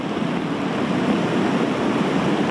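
Flood-swollen mountain stream rushing past a washed-out access road near Shenmu village under landslide-dam threat: a dense, steady roar of churning water, loud and close, with no voices.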